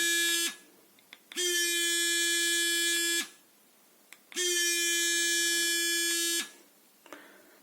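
Electric toothbrush buzzing after being reactivated, two long steady high-pitched motor runs of about two seconds each, separated by short pauses with faint clicks, close and loud, with no talking.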